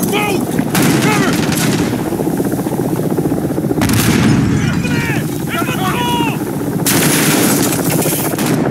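Dense war video game battle with continuous gunfire, booming blasts and a grenade explosion, loud and constant, with shouting voices over the combat.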